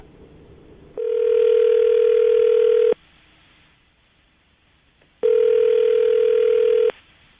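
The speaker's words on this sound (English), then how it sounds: "I'm going to call him now" Outgoing telephone call ringback: two long, loud, steady electronic ring tones separated by a quiet pause, with no voices.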